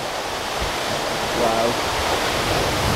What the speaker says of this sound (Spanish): Pero qué increíble de cascada, amigos.